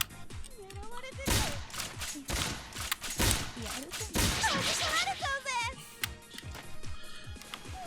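Pistol gunfire in the video game Bullet Girls 2, a rapid stream of sharp shots and impacts layered with whooshes and game effects, with a voice speaking throughout.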